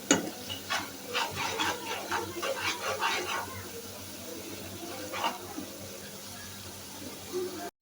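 A spoon scrapes and stirs spices frying in a pan for a mustard-leaf tengra fish curry, a quick run of close rhythmic scrapes over a soft sizzle, then quieter frying with one more stir.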